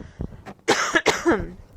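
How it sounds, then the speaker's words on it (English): A few sharp, close coughs in quick succession, with a throat-clearing rasp at the end. "on the next inhale, I'm going to have to cough."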